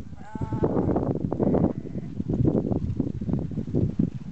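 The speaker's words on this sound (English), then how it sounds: "There's 50 F4 and F5 white Dorper ewe lambs" White Dorper ewe lambs, F4 and F5 grade, on a pastoral station, bleating loudly and repeatedly up close, with overlapping calls from the flock and no talk.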